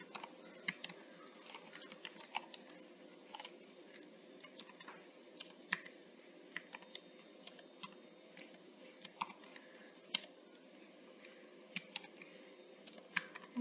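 Fingers type on a computer keyboard with a Russian layout, quiet and close, with irregular bursts of key clicks and short pauses throughout a long stretch of steady typing.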